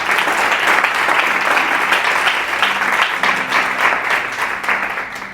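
A church congregation gives a long round of applause to the Lord after a sermon reading, a dense and steady clapping that stays loud throughout, with a faint low tone humming underneath.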